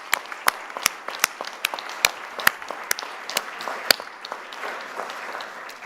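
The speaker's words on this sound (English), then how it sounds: "I'm going to give them a round of applause" An audience at a European consumer healthcare conference in Paris applauds the organizing team, a steady wash of many hands clapping with sharp individual claps standing out near the microphone, with no talking over it.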